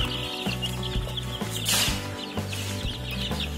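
Healthy roosters and chickens cluck and call in a modern indoor coop inside a house in a dense city neighbourhood, a steady, close flock chatter with no talk.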